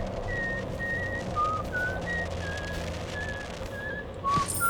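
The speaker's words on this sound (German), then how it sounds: "Hey, da pfeift er." A game character in Dishonored whistles a light tune of short, clear notes with gaps between them, standing out over a steady low ambient hum.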